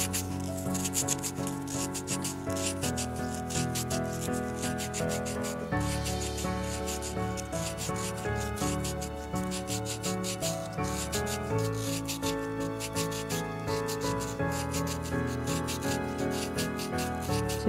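Sandpaper rubbed over a small miniature bowl by hand, a close, rhythmic scratchy rasp of repeated strokes, with background music playing underneath.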